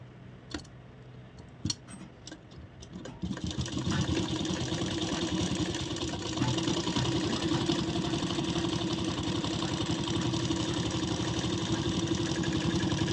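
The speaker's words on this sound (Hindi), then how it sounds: "और इसके बॉटम पे पहले हम सिलाई लगाएंगे।" A sewing machine stitches along the bottom edge of a blouse belt made of lining and main fabric, starting with a few separate clicks before a steady, dense mechanical whir runs continuously at close range with no talk.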